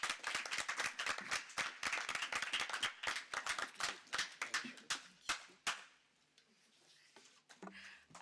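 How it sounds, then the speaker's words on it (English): Conference audience at an Internet Governance Forum session claps in a dense burst that thins into a few scattered, separate claps and fades to near quiet, close and crisp. "I love the claps there at the very end"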